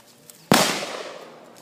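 A single sharp gunshot on a firing range cracks out close and loud, its report decaying over about a second into the open air, with no voices during the shot.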